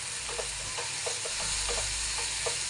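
Turmeric, coriander powder and chilli powder frying in oil for a fenugreek leaf gravy, an even continuous sizzle with regular soft stirring taps, close and without talk.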